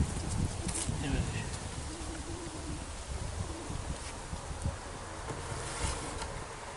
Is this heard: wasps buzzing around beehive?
yes